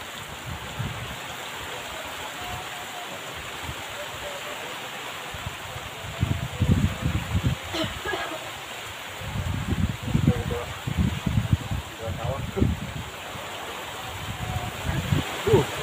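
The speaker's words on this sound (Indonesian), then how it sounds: "Hujan angin Ji. Anginnya kencang sekali sahabat tuh." Rain driven by strong wind makes a continuous hissing wash, joined by louder gusting bursts and rustling in the second half, with people speaking quietly in the foreground.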